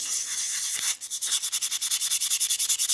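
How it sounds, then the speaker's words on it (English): An axe head being hand-sanded with 400 grit sandpaper, a close scratchy rubbing that starts continuous and then turns into quick, regular back-and-forth strokes. "400 grit sandpaper. Just kind of clean up some of these divots that the sander ain't getting in."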